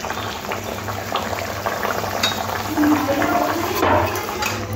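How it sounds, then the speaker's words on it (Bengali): A watery mustard-and-poppy-seed pomfret curry gravy boils steadily in a pan, bubbling and hissing up close with a constant, fairly loud simmer and an occasional stronger burble. "ঝোলটা ফুটে উঠেছে, এবার মাছগুলো দিয়ে দেব।"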